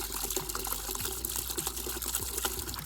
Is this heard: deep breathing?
no